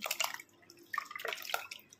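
Water poured into cooked dal and stirred, giving short splashy pours and wet mixing sounds in bursts, close and fairly quiet, with no talk.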